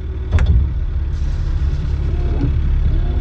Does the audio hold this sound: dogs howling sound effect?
no